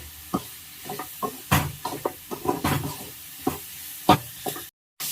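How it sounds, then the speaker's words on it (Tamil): Onions sautéing in a pan for Tamil fish curry, with repeated spatula scrapes and stirring knocks over a soft steady sizzle, moderately close, ending in a brief cut to silence. "வெங்காயம் வதங்கிடுச்சுங்க"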